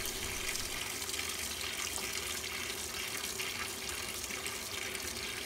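Tap water pours steadily into the drum of a decade-old washing machine running a tub clean cycle with washing powder, a continuous, even rushing and splashing with no talk.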